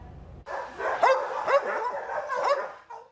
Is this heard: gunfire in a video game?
no